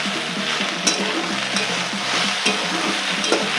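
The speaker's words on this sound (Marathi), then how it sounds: "व्यवस्थित हलवून घ्यायचं आहे" Okra bhaji is stirred in a hot pan, giving a close, steady sizzle with regular spoon scrapes and soft clicks recurring every second or so.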